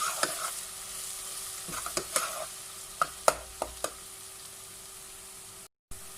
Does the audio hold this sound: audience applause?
no